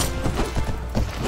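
Horse hooves thudding during a battle in Mount and Blade, a brief irregular patter of clip-clop impacts amid noisy combat ambience.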